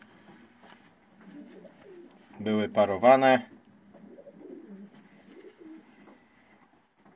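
Pigeons coo in a loft, a close burst of throaty, rolling coos in the middle, over low rustling and murmured background with a voice speaking briefly.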